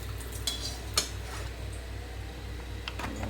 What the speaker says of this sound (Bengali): তেলে মশলাটা দিয়ে দিচ্ছি।